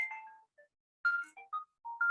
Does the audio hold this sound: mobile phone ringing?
yes